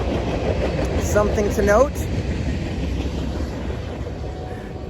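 A train rolls by on a nearby track in a residential neighborhood, a loud steady rumble with faint clickety-clack that swells then slowly fades, while someone talks briefly over it.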